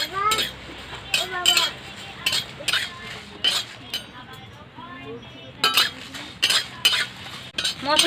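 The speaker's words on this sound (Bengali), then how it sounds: "মৌরি, ধনে, শুকনো লঙ্কা আর এলাচ একসাথে ভেজে নেব।" Cumin, fennel, coriander, dried chilli and cardamom are dry-roasted together in a pan. A spoon strikes and scrapes the metal in quick clinking bursts with short pauses between them, while a voice speaks in between.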